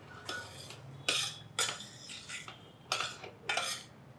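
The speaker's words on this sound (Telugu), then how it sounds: "ఒక కప్పు రవ్వ వేయించేసుకుందాం" Semolina frying in ghee is stirred in a pan with a metal spoon, making scraping, clinking strokes in irregular bursts, close and fairly quiet, with no talking.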